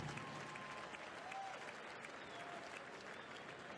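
A steady wash of crowd applause fills a college baseball stadium at the Men's College World Series as freshman pitcher Dax Whitney leaves the game. The clapping is broad, continuous and loud for the whole stretch.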